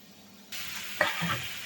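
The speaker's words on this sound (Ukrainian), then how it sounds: "Я обсмажую на сухій сковородці без додавання жиру." Small cut pieces of meat hit a hot, dry pan without any fat and begin to sizzle right away, with a brief clack of utensils as frying starts.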